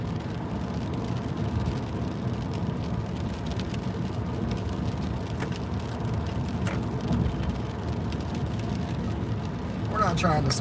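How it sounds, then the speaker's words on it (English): Steady wash of rain falling on a moving car, dense and continuous throughout with faint road rumble underneath and a brief brighter patter near the end. "We've got some slick rain going on"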